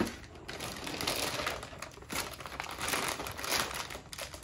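Plastic toy packaging for a Monster Jam monster truck toy is crinkled and pulled open in quick, rustling bursts, close and fairly loud, with no talking.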